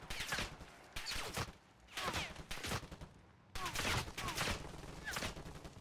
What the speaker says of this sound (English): Oh, they're shooting me in the back.